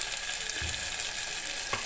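A masala of stewed chopped tomato and red chilli powder fries in a pan with a constant bright sizzle, and a spoon stirs through it with a couple of soft scraping strokes. Close and steady, with no talking.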